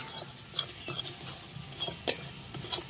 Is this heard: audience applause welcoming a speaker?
no